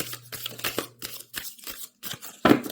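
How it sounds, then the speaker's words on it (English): Tarot cards being shuffled in a series of quick riffling bursts and soft slaps, close and fairly quiet, ending with a sharper snap. "One more shuffle here."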